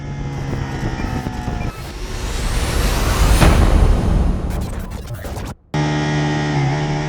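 A 2022 Ducati Panigale V4 on a wet sighting lap at Donington Park, with a loud, continuous engine roar that rises and falls through gear changes amid rain spray and wind, then cuts out sharply before resuming.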